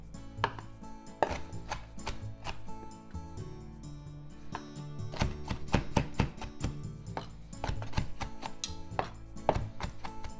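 A knife chops raw shrimp on a board for gyoza filling, with rapid, uneven bursts of crisp taps at close range and brief pauses between flurries.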